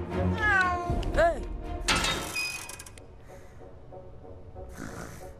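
A black cat meowing in the LEGO Harry Potter video game, two rising and falling meows in quick succession, followed by a burst of game noise and quieter background sounds.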